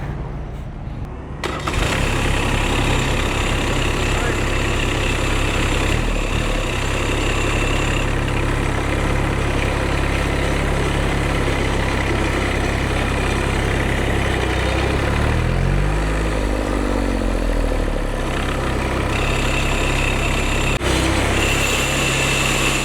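A turbo diesel John Deere engine fitted in a Harley motorcycle runs continuously, a loud, steady chugging idle close by with a brief dip and wavering pitch partway through.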